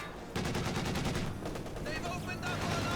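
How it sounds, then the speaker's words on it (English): Rapid machine-gun fire from a strafing run in the World War II strategy game Company of Heroes 2, a dense rattling burst of shots that keeps going for several seconds at moderate volume. "And here comes another strafing run."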